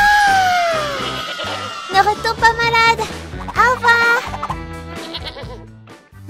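A sick goat bleats in a French children's story, long wavering cries repeating loudly over bouncy background music, with a voice speaking briefly.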